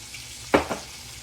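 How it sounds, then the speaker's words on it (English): Water poured into a pot of thickening potatoes, a brief liquid splash followed by a smaller second slosh, fairly close over quiet kitchen background. "So I'm gonna put a little bit more water."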